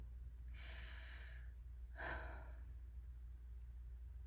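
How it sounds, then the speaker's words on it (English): A single deep breath taken close to the microphone: a soft drawn-in inhale followed by a stronger exhale, quiet and alone. "I hope everyone just took a deep breath too"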